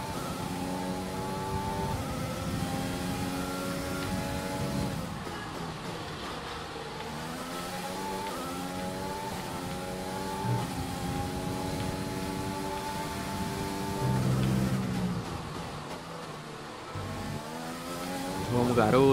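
Race car engine in the F1 2020 video game at the Bahrain Grand Prix qualifying, a loud sustained whine rising and falling through gear shifts across a lap, with someone talking over it.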